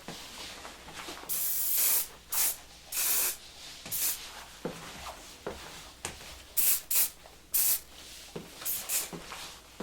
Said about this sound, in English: I'm just going to give you some hairspray just to keep those loose curls nicely in place.